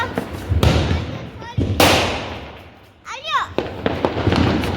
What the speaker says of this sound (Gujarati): બધા ફટાકડા ને ભૂત ધુવાડો થઈ જાય